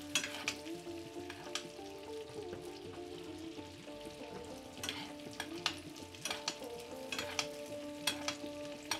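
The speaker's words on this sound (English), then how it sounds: "I'm just adding a lot of flavor into that meat by basting it" Meat sizzles in a hot pan as butter and herbs are spooned over it. A dense, steady crackle carries throughout, with sharper spits and pops scattered over it and no talking.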